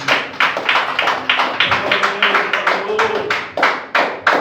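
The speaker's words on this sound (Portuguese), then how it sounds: "Vamos receber a ação de Deus com as palmas bem forte para Jesus." A church congregation claps hard and loudly in a steady, fast rhythm of close, sharp handclaps, with some voices mixed in underneath.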